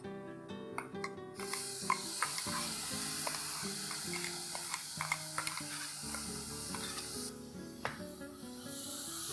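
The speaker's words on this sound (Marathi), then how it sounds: "आता आपण जे खोबऱ्याचं वाटण केलेलं आहे ना ते आपण फ्राय करून घेऊ" Ground coconut masala paste fries in a pan for a spiced aubergine curry, giving a steady loud sizzle with scraping stirs and small pops throughout, no voices.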